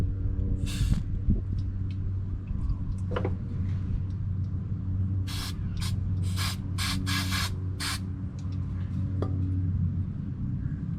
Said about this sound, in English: I'll be spraying some contact cement on the